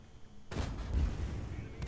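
Cromwell tank cannon fires in a video game, a single sudden heavy boom after a quiet start that is followed by a rumbling tail and a faint crack near the end.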